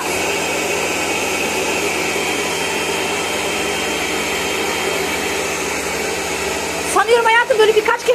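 A Karcher K3 Horizontal Plus high-pressure washer runs with a loud, steady mechanical drone for several seconds before voices break in over it near the end.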